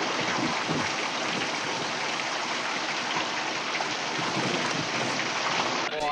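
Steady rain falls in a dense, even hiss, close and continuous throughout with no letup, a soft constant wash of drops on surfaces.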